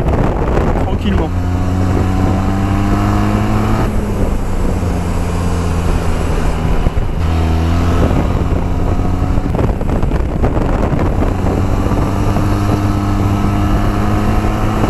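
A Benelli TRK 502 motorcycle engine drones loudly and close while riding, its pitch rising repeatedly as it accelerates through the gears, mixed with heavy wind rush and someone talking over it.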